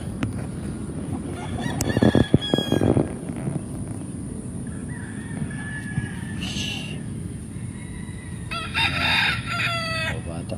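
Roosters crow repeatedly over a constant background of clucking chickens on a farm in the Philippines, with a couple of loud crows standing out, some nearer, some farther off.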